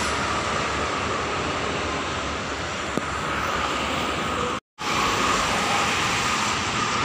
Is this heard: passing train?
yes